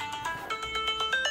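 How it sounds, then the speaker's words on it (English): A smartphone ringtone set off remotely from an Ekster Generation 1 smart wallet chimes in a repeating electronic melody, steady and moderately loud indoors for a brief stretch, with no talking. "it's gonna ring the alarm"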